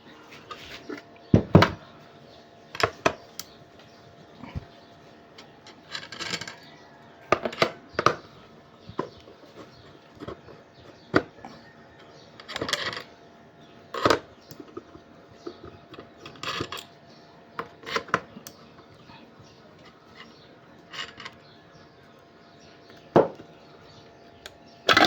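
Plastic packaging and cardboard rustle and clack at close range while a PowMr 45A solar charge controller is unboxed, producing sporadic sharp knocks and handling sounds with no talk.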